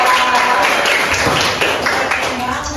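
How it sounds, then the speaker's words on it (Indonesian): Short burst of classroom applause during a microteaching history lesson, students clapping loosely and close by for a couple of seconds. "tepuk tangan dulu untuk kita"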